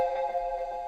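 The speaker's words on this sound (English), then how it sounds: "Now the keys by itself sound like this." Soloed keys from a hard trap beat hold a steady, sustained mid-range tone with a faint pulsing shimmer, playing alone without drums.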